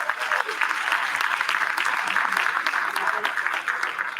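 An audience at a councilwoman's inauguration ceremony gives sustained applause, a dense, even clapping from many hands that lasts throughout, with some voices mixed in.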